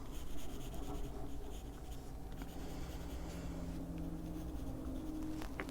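Steady scratchy rubbing of a colored pencil tip moving across paper, continuous and close, with faint background hum and no voices.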